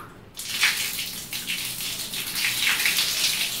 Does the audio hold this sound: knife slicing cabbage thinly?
no